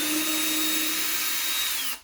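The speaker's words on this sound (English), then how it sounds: "to take the screw out, you push on the other side, and then it will reverse the direction of the drill" A Ryobi drill driver runs in reverse to back a screw out, a steady loud motor whine that holds for about two seconds before cutting off.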